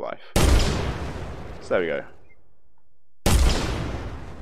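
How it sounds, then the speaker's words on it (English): A shot barrel exploding in an Unreal Engine 4 game: two loud, sudden booms that decay over about a second each, separated by a brief silence, with someone speaking briefly between them. "We shot the barrel, it still exploded"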